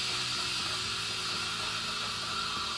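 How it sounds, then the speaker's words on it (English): Steam hisses steadily from a Crockpot Express pressure cooker being depressurized through a funnel after cooking rice, a continuous close, fairly soft rushing hiss with no pauses. "Now you can use a funnel to depressurize, and that means that the steam will be redirected."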